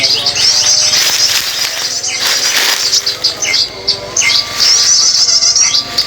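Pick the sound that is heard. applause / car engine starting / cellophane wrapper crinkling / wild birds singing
wild birds singing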